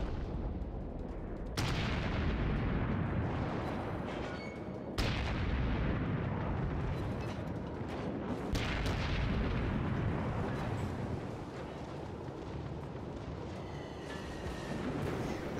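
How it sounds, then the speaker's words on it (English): Heavy naval gunfire pounding a destroyer, the Sampson, in World of Warships, with loud booming impacts near 1.5, 5 and 8.5 seconds over a continuous rumbling barrage of shell hits and battle noise. "The Sampson is rocked by sustained fire from multiple targets"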